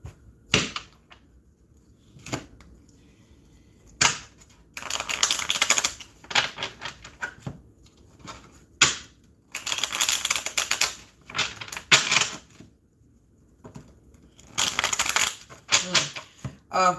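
A deck of cards is shuffled and handled in bursts of rapid riffling and flicking, close and crisp, separated by single sharp snaps and short quieter gaps.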